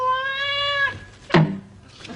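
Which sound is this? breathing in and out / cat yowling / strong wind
cat yowling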